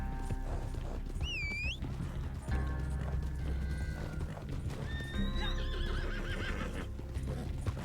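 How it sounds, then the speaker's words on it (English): A horse's hooves clip-clop in a steady galloping rhythm, with several whinnies and neighs over a continuous background score, from a video game. "This is a nice horse."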